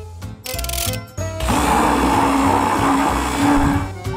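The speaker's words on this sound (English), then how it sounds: "Now ice cream and put it in the blender." A kitchen blender whirs loudly and close, mixing ice cream, Nutella and milk, with a few short pulses at first, then a steady, grinding roar.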